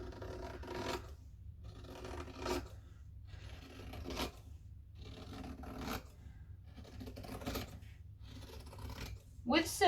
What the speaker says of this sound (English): now I'm just going to cut around my template circle